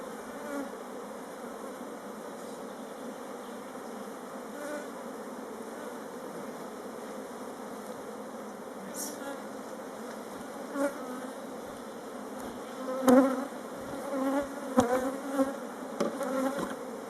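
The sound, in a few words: honeybee swarm buzzing during transfer into a hive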